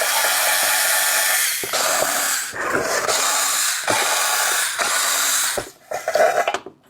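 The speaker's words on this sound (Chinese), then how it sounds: "来，外壳螺丝全部拆掉。" Casing screws come out of a 73-volt lithium e-bike charger with a continuous harsh, hissing power-tool whir, broken by short pauses and a few clicks, ending in uneven bursts as it stops.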